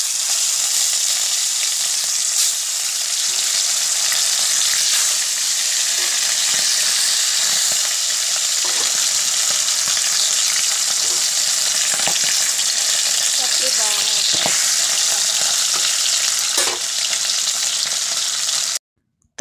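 A fish-head curry with bean seeds, potato and tomato sizzles and fries steadily in a pan in a village kitchen, a continuous loud hiss with occasional scraping stirs, without speech.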